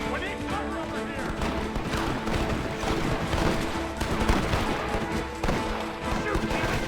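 Repeated gunshots crack in a chaotic shootout in Red Dead Redemption, irregular volleys of shots layered over shouting voices and background music.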